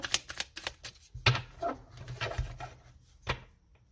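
Tarot cards being cut and handled, a quick run of crisp card snaps and taps followed by scattered softer slaps, close and fairly loud with no speech.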